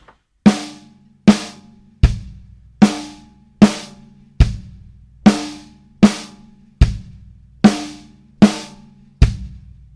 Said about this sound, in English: So now let's do 2 sticks, a right, left, and then a kick at the end.